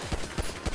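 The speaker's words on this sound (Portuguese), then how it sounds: "Tá vendo o tiro dali, ó." Gunfire in GTA V: three heavy, booming shots spaced evenly in under a second, each landing as a loud low thump over a dense, hissy game soundscape.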